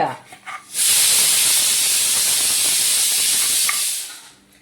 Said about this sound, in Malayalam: ഒരു സൗണ്ട് കേട്ടൂലേ അത് കുക്കറിന്റെ പ്രഷർ പോയതാണ്